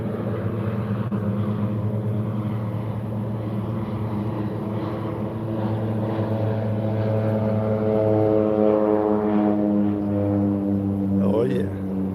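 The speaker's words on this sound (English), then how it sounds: "Another seaplane taking off." A seaplane takes off on the water, its propeller engine a loud steady drone that holds and rises in pitch over twelve seconds. Voices talk faintly underneath.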